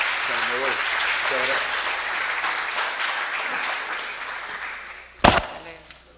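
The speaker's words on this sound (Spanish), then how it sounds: "Un aplauso para el doctor porque él se va a tener que retirar." Conference audience applause at an international arbitration congress, a broad wash of clapping that gradually fades, with a few voices murmuring early on and a sharp thump near the end.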